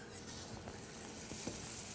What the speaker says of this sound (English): Now you see that nice sizzle?